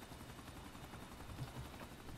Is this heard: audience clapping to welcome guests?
no